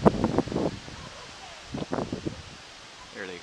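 Gusty wind blows across a microphone on a wind turbine site, with a steady broadband rush and a couple of stronger buffeting bursts. Muffled voice-like rumbles rise through the noise.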